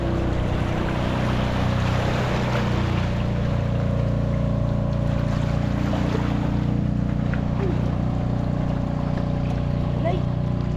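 A motorized bangka outrigger boat runs past alongside at sea, a steady low engine drone under wind and water noise that holds for the whole stretch, with voices faintly in the background.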